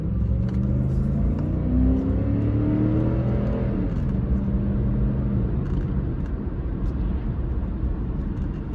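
Cadillac sedan with air-ride suspension accelerating up to speed from inside the cabin, engine tones rising steadily over several seconds before a shift, then settling into a broad road rumble.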